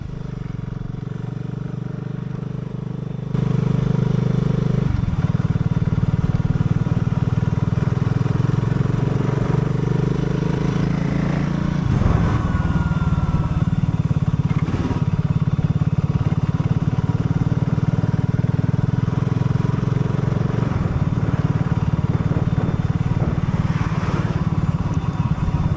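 A BSA 650 Goldstar motorcycle with a stalling problem is ridden, its engine droning steadily close by as revs rise and fall, with road and wind noise.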